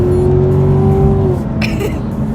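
A Chevrolet Corvette C7 engine revs and accelerates, a loud rising tone under road and wind noise, heard from close up with talk over it.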